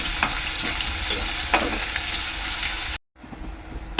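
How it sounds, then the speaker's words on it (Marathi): Salted onion frying in a pan for veg pulao gives a loud steady sizzle with stirring scrapes, cutting briefly to silence before a quieter sizzle resumes. "कांदा चांगला शिजून घ्यायचा आहे"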